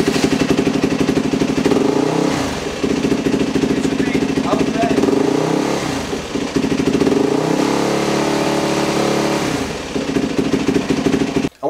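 A 4-stroke dirt bike engine rises and falls in pitch as it is revved during idle and fuel screw adjustment, with several surges and drops across the stretch, loud and close, with a voice talking over it.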